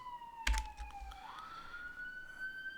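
A fire engine siren passes at a distance, its faint wailing tone falling and then rising again, with a brief thump near the start.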